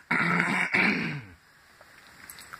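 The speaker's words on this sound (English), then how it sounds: "I had to clear my throat." Throat clearing, two loud rough raspy bursts close by, the second following a short break, then fading into quiet room noise with small faint sounds.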